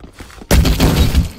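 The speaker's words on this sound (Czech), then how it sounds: "Granát." A grenade blows up in a Roblox shooter game: one sudden loud, sharp blast with a crackling, shattering tail, right after a short quiet stretch.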